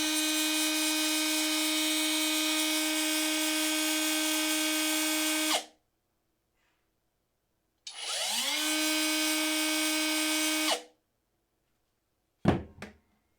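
A Parkside Performance 12V direct-drive angle grinder running: a steady, fairly quiet high whine in two runs of about five and three seconds, each spinning down to silence, then a brief thunk.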